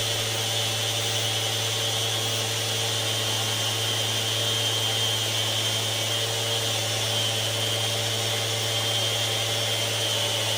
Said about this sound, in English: So this is just me just finishing the sanding there.